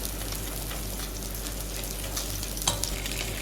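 Garlic parsley is stirred into a spelt and fava bean risotto in a pan, producing a soft, continuous bubbling sizzle and scraping, close up, with a couple of brief clinks near the end.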